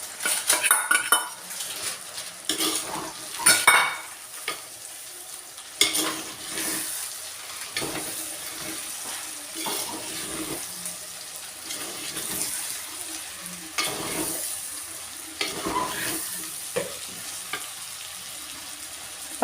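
Cut raw green papaya sautés in a pan for pickle, with continuous sizzling, repeated scraping and clinking of a metal spoon stirring against the pan, and a few louder clatters.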